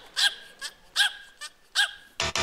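A dog barks close by, giving a series of sharp, evenly spaced barks, about five in quick succession, with a louder burst right at the end.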